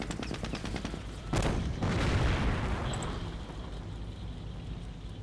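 Anti-tank gun fire in the World War II strategy game Company of Heroes, heavy booming shots over a dense rattle of machine-gun fire and battlefield rumble, with a loud blast in the middle that fades into echoing noise.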